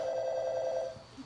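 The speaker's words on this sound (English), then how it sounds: "Oh, my phone is ringing." A telephone rings with one steady electronic trill lasting most of a second, close and clear, followed by a brief quiet thump.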